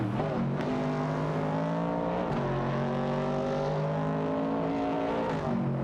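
Racing cars in a video game race, including a 1968 Pontiac Firebird and a Ford Capri RS 3100, roar past with layered engine whines rising and falling as they accelerate, loud and continuous throughout.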